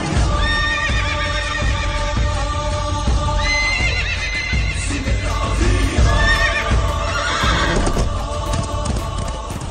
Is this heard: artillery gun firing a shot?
no